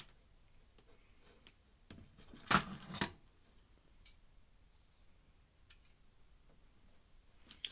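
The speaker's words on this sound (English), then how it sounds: "I know it's weird watching me use scissors or any knives because I'm left-handed." Scissors cut material while a dream catcher is being made, with a couple of quick, close, crisp snips near the middle of an otherwise quiet stretch.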